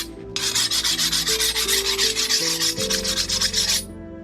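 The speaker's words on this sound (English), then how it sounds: "Alright, so we got it hardened. File's skating pretty good." A steel file is dragged in quick back-and-forth strokes across a hardened Wootz steel Viking sword blade, skating with a bright, rhythmic rasping scrape that plays close and alone for a few seconds before stopping.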